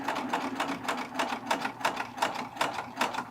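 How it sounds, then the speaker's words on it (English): A serger sewing machine runs steadily through fabric while making a cover stitch on boy shorts, with a fast, even needle rhythm that is close and continuous and has no talk over it. "And then when I start to sew,"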